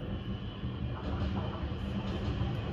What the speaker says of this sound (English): The train is here.